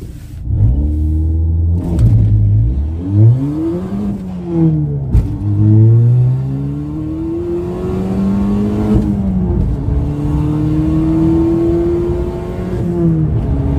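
A car launches hard on a racing circuit, its loud engine rising in pitch through several gear changes and pulling strongly with a close, continuous roar.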